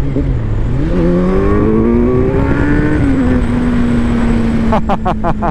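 A 2021 Kawasaki Z900 motorcycle engine revs up close and loud, pitch climbing steadily then settling into a sustained high drone, with a quick burst of rapid clicks near the end.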